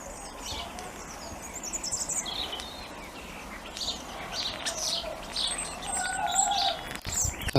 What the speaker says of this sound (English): The starling's still singing